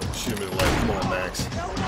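A rapid volley of gunshots in the shooter video game Max Payne 3, several sharp cracks in quick succession at moderate loudness, with a voice talking over the shooting.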